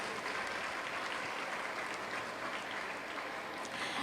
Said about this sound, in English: We request the public to give a round of applause to the graduates and their parents.